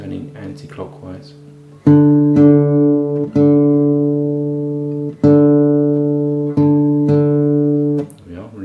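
Guitar strings plucked repeatedly in pairs, each pair ringing out and slowly fading while one string is tuned up toward the other, close and clear with short pauses between plucks.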